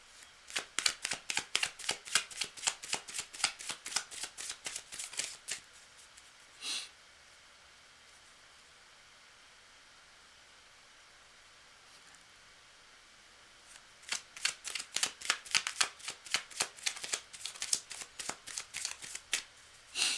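A deck of tarot cards is shuffled in rapid riffling bursts, with a long quiet pause between two stretches of crisp, rhythmic flicking.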